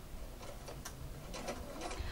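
A domestic sewing machine needle is repositioned by turning the hand wheel while sewing a shirt sleeve placket. Soft, faint mechanical ticks and clicks come at irregular intervals in a quiet room.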